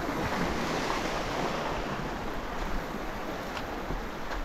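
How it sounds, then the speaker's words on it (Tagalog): A rough, high sea churns and surges around a fishing boat, a loud, continuous wash of waves mixed with heavy wind noise on the microphone. "Taas pa yung dagat."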